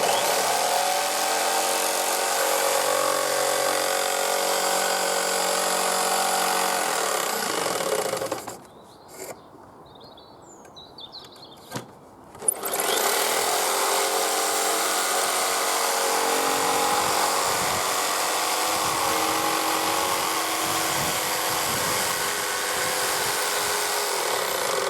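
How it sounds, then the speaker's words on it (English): A jigsaw saws through wood in a loud, buzzing run that stops briefly partway, leaving near quiet with a few small knocks, then starts again and continues steadily to the end. "Wait for the jigsaw to stop"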